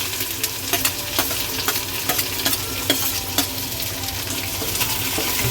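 Finely chopped onion fries in oil with mustard seeds and cumin, a constant sizzle broken by repeated quick clacks of a spoon stirring against the pan.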